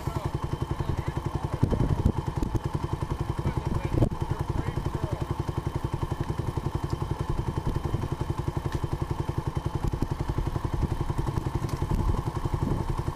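Dirt bike engine running steadily as it is ridden, a continuous close mid-pitched drone with a rapid firing pulse and occasional clattering thumps throughout.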